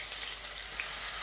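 Fish curry paste fries in hot oil, a brief, soft, steady sizzle with no voices.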